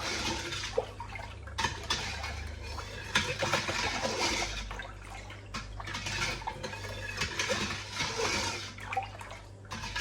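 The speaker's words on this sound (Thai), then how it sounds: "ขั้นตอนนี้เราก็ต้องคนน้ำตาลให้ละลายนะคะ" Sugar being stirred into a spicy Thai salad dressing until it dissolves, a steady, continuous sloshing of liquid with light scraping against the container, close by and lasting about ten seconds.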